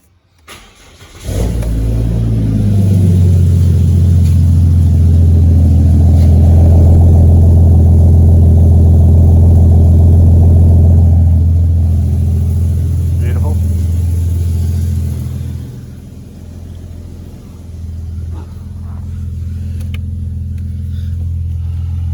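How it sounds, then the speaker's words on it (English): Car engine cold starting after the battery is reconnected: a quick crank, then the engine catches and holds a loud, steady high idle for about fifteen seconds before dropping to a quieter idle, with brief talking near the end. "I'll record the cold start as well."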